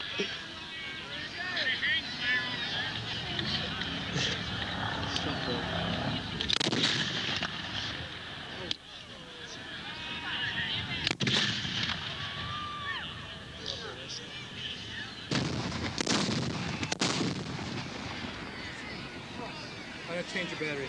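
Battlefield gunfire sounds as a dense, continuous crackle of shots with heavier bursts, steady and fairly loud throughout, while voices shout over it.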